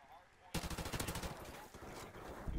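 Gunfire in the Modern Warfare Remastered video game, during a competitive Search and Destroy match with a sniper on high ground, erupts suddenly as a rapid, loud rattle of shots that continues to the end.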